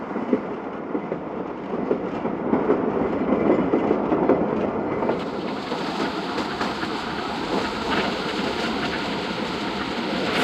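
The Thal Express runs steadily on the rails, a continuous rumbling roar with faint rhythmic clickety-clack from the wheels, heard from inside the moving train and growing brighter partway through.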